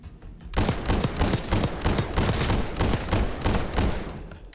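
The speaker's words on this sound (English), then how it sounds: "This is a shotgun." Shotgun fire in Call of Duty: Black Ops 6 during an airport attack mission: a loud, rapid series of blasts in close succession, each sharp report ringing out over the next, with no talking.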